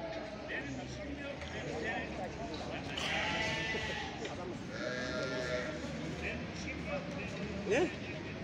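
Sheep and lambs bleat repeatedly at a crowded small-livestock market in Çorum, Turkey. Several loud, overlapping calls rise over a steady crowd murmur, with people talking nearby.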